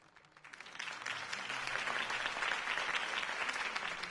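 Crowd applause at a political campaign rally in Batman: The Telltale Series video game, a steady wash of clapping that swells in after a quiet start and holds at moderate volume throughout.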